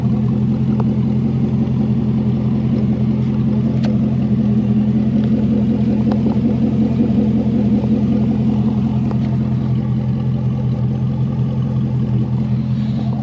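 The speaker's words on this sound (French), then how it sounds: "Alors là, bien sûr, au ralenti, on n'entendra pas beaucoup." A 1996 Chevrolet Corvette C4 Collector Edition idles with a steady, deep, burbling rumble, close and continuous with no revving, the low throb unbroken throughout.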